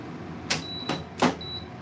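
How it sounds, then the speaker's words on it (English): A few short electronic beeps from a kitchen appliance, with some soft clatter and handling noises mixed in nearby. "you might have just heard the air fryer beep"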